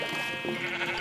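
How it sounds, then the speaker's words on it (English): Minecraft sheep bleating, a short, nasal, wavering baa heard clearly and close over a one-second span. "these sheep are so annoying."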